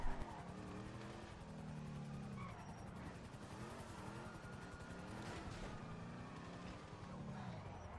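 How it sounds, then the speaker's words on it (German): A car drives on snow in GTA Online, a low engine hum that rises and falls with revving and faint tire noise, fairly quiet and steady throughout. "Leute, im Schnee zu fahren ist einfach nur zu scheiße"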